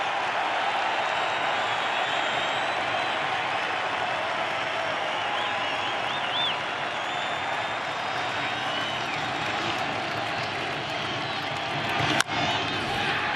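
A baseball stadium crowd at Game 5 of the 2016 World Series, Indians at Cubs, roaring and clapping in a dense, continuous wash for over ten seconds, with a sharp bang near the end and a commentator talking over it.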